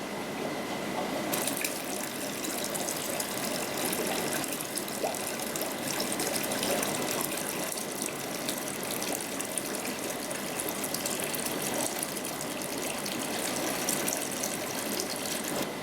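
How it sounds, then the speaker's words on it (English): A gravel cleaner siphons water and debris from a home fish tank, giving a steady wash of running, gurgling water with faint mechanical clicks, continuous and fairly close throughout, no voices. "you've gone round your whole tank with the gravel cleaner"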